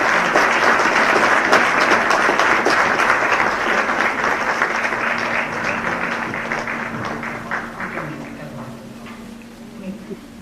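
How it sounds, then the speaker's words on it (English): A large audience at an awards calendar launch event in Coimbatore applauds loudly after a performance, dense sustained clapping that gradually tapers and softens toward the end. "I think this is bravo performance and this needs a loud applause."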